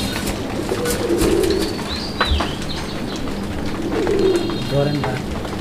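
Madrasi and Raj-golla pigeons coo nearby in soft, repeated low rolling calls, with a few sharper bird chirps and light background noise in between.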